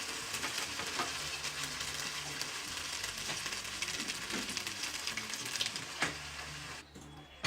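Risotto rice with wine simmering in a pan as broth is added, a soft continuous sizzle and bubbling with occasional faint stirring scrapes and clinks, fairly quiet and steady.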